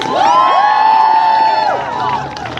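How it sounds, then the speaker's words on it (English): A crowd at a women's march in Plattsburgh, New York cheers loudly, with high sustained whoops and shouts ringing out over scattered clapping before the noise eases toward the end. "Give yourselves a round of applause."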